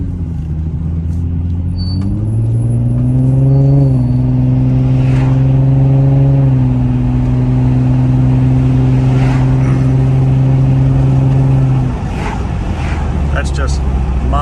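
Low exhaust growl from a 2007 Infiniti G35 Coupe under modest acceleration, a steady close engine drone that rises in pitch through a gear, holds, then drops off as the throttle eases.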